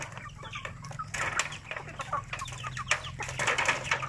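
Farm chickens cluck and chatter in short, scattered bursts, fairly close and moderately quiet, with a low steady hum beneath.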